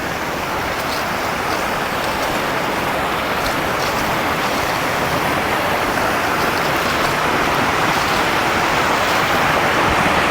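Splashing water feature at an RV resort and spa campground, a steady broadband rush of falling water that stays loud and constant throughout with no pauses.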